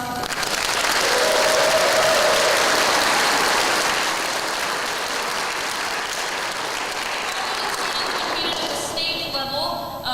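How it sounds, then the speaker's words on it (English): Audience applause at a 2025 spring band concert, a loud sustained round of many hands that swells early and slowly thins toward the end, with faint voices underneath. "If you'll give them a round of applause"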